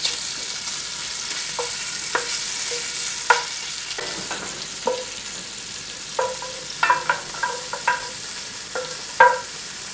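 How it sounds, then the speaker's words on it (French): Strips of calamari being sautéed in butter in a cocotte, a constant background sizzle broken by a series of sharp utensil knocks and stirring clatters, clustered more densely toward the end, with no talking. "le calamar il est coupé en lamelles En lamelles. Pour le faire revenir. Dans la même cocotte"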